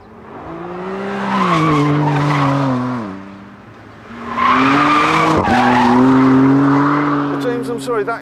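Tyres squeal and skid in two long, loud bursts as a car launches hard, the rubber shrieking in a wavering howl with engine noise underneath and a short lull between the bursts.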